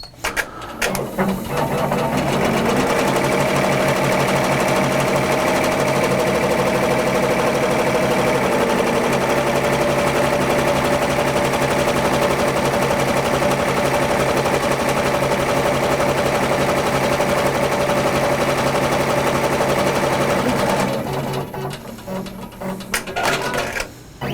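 An embroidery machine stitches an H tension test design with white thread, a steady, loud mechanical whirring and rapid needle clatter running continuously for about twenty seconds before winding down, with no talking.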